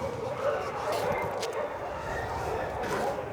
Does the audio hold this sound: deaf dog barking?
yes